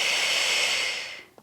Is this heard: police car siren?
no